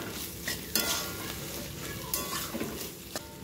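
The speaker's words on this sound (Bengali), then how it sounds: "তো দেখো, আমার মাংস কষানোটা প্রায় হয়ে এসছে, কিমাটা" Minced chicken frying in a pan during slow cooking for chicken khichuri, a close sizzle broken by sharp stirring scrapes and clinks of a utensil against the pan, with no voices.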